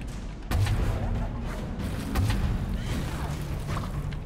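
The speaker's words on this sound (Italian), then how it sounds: "è una bestia il cannone teiera, è pazzesco" A teapot cannon fired in Alice: Madness Returns, heavy booming blasts with low thumps and whooshing, the first shot half a second in and another about two seconds later, over continuous game noise.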